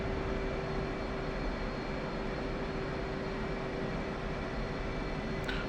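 An F-18 jet taxis to its catapult in the DCS flight simulator game, with a steady, loud engine drone and a constant tone running unbroken throughout, no talking.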